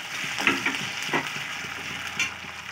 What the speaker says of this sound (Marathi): मला हा कच्चा बटाटा आहे, हा आपण तेलामध्ये होऊ देऊया